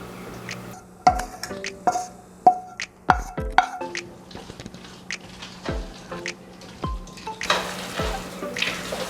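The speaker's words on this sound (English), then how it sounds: "We're going to take our ham and onion and pour it into the pot." Ham and onion go into a pot of mac and cheese pasta and are stirred in: quiet wet squelches and scraping, with a few sharp clinks of a utensil against the pot, close and intermittent.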